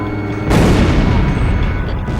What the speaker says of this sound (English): Drop more bombs.